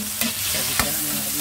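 Tomatoes frying in a pan for bulanglang give off a steady, close sizzle, with two short scraping stirs of a utensil breaking through it.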